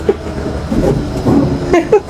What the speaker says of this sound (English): We're in the tram.